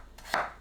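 A kitchen knife cuts through a raw potato into thin slices in a single short, crisp chop, heard close up and alone.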